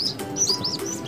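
Ducklings chirp in quick, thin, high peeps at a pond with koi and catfish, several overlapping calls packed into a second, close and clear with no talking.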